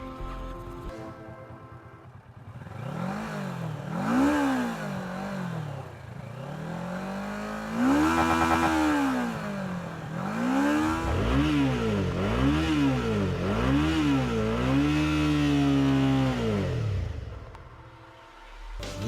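Kawasaki and Suzuki motorcycles revving, engines climbing and falling in repeated rev sweeps toward the redline, each rise a rising whine followed by a drop, close and loud, with an idle at start and end.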